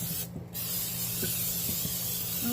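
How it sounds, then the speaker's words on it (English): Vegetable oil cooking spray goes onto a cake pan. A steady close hiss runs almost the whole time, with a brief gap near the start and a few faint clicks and taps underneath. "I'm going to go ahead and spray it with my vegetable oil spray, and I'm going to spray it pretty nicely."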